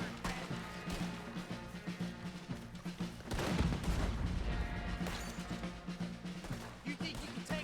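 Cannon blasts and gunfire in Red Dead Redemption 2 crackle under voices, with repeated shots and a heavy boom midway amid a dense, noisy battle that continues throughout.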